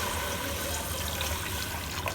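Water pours steadily into a cooking pot of soaked rice for a chicken tikka biryani, a continuous, even, moderately quiet splashing and trickling with no talking.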